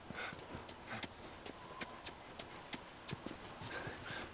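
A horse's hooves clip-clop in The Last of Us video game, a quiet, irregular series of sharp hoof strikes on hard ground, spaced unevenly as the animal is moved about.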